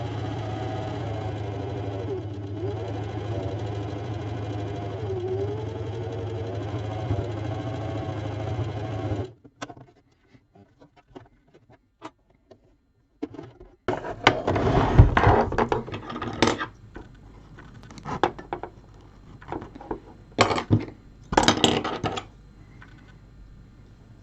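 A sewing machine runs a steady humming straight stitch along a leaf's central vein in an appliqué piece, then stops, leaving quieter scattered clicks, rustles and handling noises.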